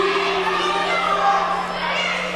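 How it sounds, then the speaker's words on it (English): A wrestling crowd boos during a Sanctuary Heavyweight Championship match, a dense, sustained roar of many voices filling the arena continuously. "What are they booing if it's the truth?"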